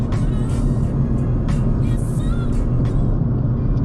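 A Mercedes-Benz A250 Sport AMG engine pulls under acceleration with a loud, steady low drone from inside the cabin, with a few brief sharper noises over it.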